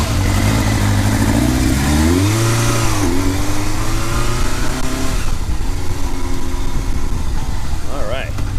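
Kawasaki GPZ 550 motorcycle with a fast idle problem, its engine running loud and close, pitch climbing and dipping as it revs, with a steady mechanical hum throughout.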